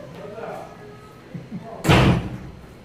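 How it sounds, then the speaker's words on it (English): A door slams shut with one loud, close thud that stands out sharply over quiet room noise. "The door just slammed."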